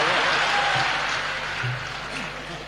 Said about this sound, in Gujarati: હા પાડી દીધી, પાડો તાળીઓ.